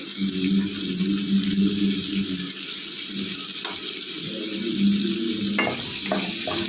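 Chopped onions and green chillies fry in a pan with salt and turmeric for a curry, giving a steady close sizzle and crackle with a few brief stirring scrapes toward the end.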